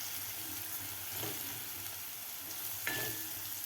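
Gram flour roasting with chopped onions in a pan for an ivy gourd dish gives a soft, continuous sizzle, with a couple of brief scraping stirs, heard close but quiet.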